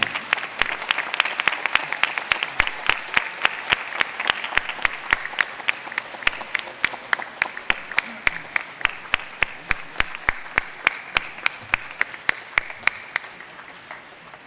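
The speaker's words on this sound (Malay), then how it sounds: "Berikan tepukan gemuruh untuk ayah, ibu serta keluarga anda yang hadir pada hari ini" Thunderous applause from a large crowd at a university graduation convocation, dense steady clapping sustained for about fourteen seconds before slowly thinning toward the end.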